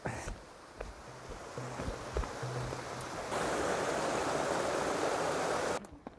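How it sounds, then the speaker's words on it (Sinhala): A small waterfall stream splashing steadily as water is filled from it, a continuous close rushing that grows louder and fuller partway through, then cuts off at the end, with no talking. "මෙතන තියෙනවා දියැලක් මේ. මේකෙන් වතුර පුරව ගන්න පුළුවන්."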